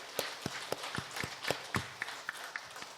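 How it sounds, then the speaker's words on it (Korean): A church congregation claps in quiet, scattered applause, with soft distinct claps in an uneven rhythm, heard faint and distant. "오늘 인도하신 하나님께 감사 박수 한번 하겠습니다."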